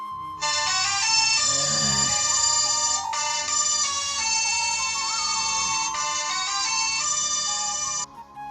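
A mobile phone ringtone sounds for an incoming call from a bank, a bright electronic melody looping continuously for several seconds, close and clear with no talking.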